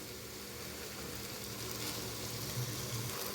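Chicken vegetable pasta sizzling in a pan as it is stirred, with a steady frying hiss and faint low scraping, close and continuous.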